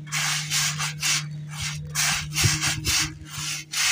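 Hands rub rice grains back and forth in a woven winnowing tray, making rhythmic, close, loud rasping swishes in regular strokes with no speech.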